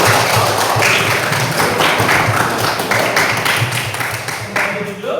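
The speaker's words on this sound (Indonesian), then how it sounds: "Kita berikan tepuk tangan." Classroom students clapping together for a group presentation, a dense, steady patter of many hands that stays loud throughout, with some voices mixed in.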